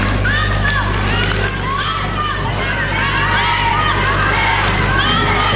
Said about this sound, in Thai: เชียร์ก็ถือว่ายังเยอะนะครับในสนาม NTT Hall ในมอนครราชสีมา